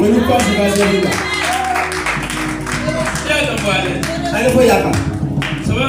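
A church congregation claps along in a steady rhythmic beat during worship, loud and close, with voices singing and calling out over the clapping throughout.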